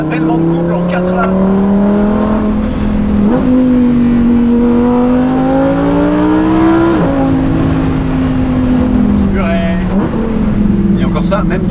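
Lamborghini Huracan EVO engine revving and downshifting, a loud close cabin roar with pitch climbing and dropping across several gear changes, plus crackles and bursts on the throttle.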